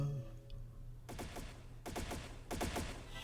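Gunfire in The Legend of Heroes: Trails in the Sky SC: three short rapid bursts of shots over a low hum, moderately loud against a quiet background.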